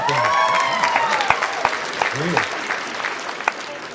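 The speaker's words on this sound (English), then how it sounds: "Let's give him a round of applause." A crowd applauds steadily, with scattered claps and a few cheers, while a voice speaks over the clapping near the start.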